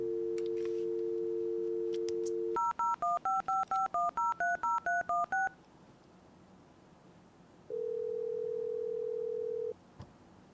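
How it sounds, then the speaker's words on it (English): A telephone dial tone gives way to a quick run of about ten DTMF keypad tones as a number is dialed, followed by a pause and a steady ringback tone, clean and close with no talking. "Let me phone Austin"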